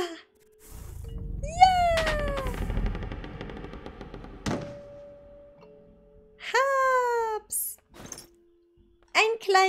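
A cat in the video game Layers of Fear: Inheritance meows several times in short, rising-then-falling cries, separated by clattering game noises and quiet gaps.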